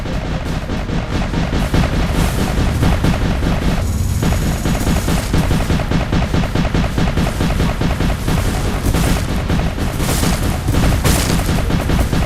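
A mouse-controlled auto cannon in Roblox Build a Boat for Treasure fires a relentless rapid stream of loud booming shots, dense and continuous for the whole stretch with no pauses and no talk.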